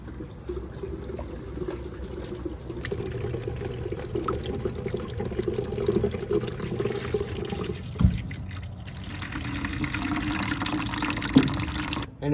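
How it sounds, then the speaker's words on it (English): Water from a kitchen faucet runs steadily into a sink, making a continuous splashing pour that shifts in tone partway through, with a short clatter near the middle. "This first demonstration would represent you just turning on your faucet and washing off your dishes."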